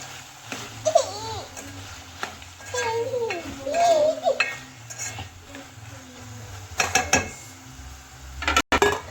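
Brinjal curry is stirred in a pan after salt goes in, giving scattered scraping and clinking of a utensil, while a child babbles and laughs and a voice speaks in the background.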